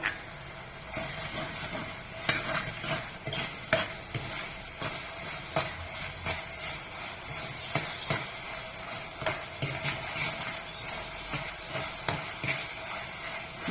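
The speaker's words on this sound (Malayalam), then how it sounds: "ചതച്ചത് രണ്ട് പച്ചമുളക് ചെറുതായിട്ട് അരിഞ്ഞത് എന്നിട്ട് നന്നായിട്ടൊന്ന് വഴറ്റുക" Crushed garlic and chopped green chillies sauté in a pan for rasam, giving a steady low sizzle broken by frequent clicks and scrapes of a stirring spoon.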